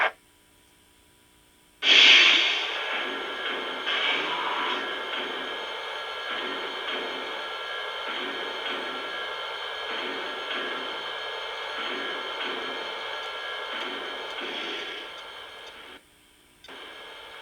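A model steam locomotive chuffs in a steady rhythmic pattern, starting abruptly after a short silence and cutting out briefly near the end.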